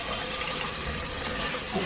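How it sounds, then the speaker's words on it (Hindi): Half a cup of water poured into a pot of cooking meat and onions, a steady close rushing splash of liquid that carries on without a break. "ये थोड़ा सा आधा कप हम इसमें पानी डाल के"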